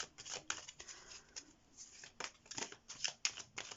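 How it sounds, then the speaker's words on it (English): Tarot cards from a Universal Tarot deck being shuffled by hand, a steady run of crisp riffling and flicking bursts with short pauses, close and fairly quiet, with no talk. "I'm going to be reading your cards now and shuffling them"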